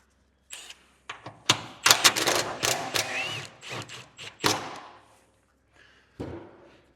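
A large bolt on a Toyota GR Corolla rear motor mount is snugged down by hand, with a run of close, sharp ratcheting clicks and metallic clacks in uneven bursts, then a pause and one last short burst.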